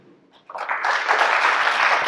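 Audience at a Shasta County supervisor candidates election event breaks into applause after a brief quiet start, rising quickly into steady clapping that holds to the end.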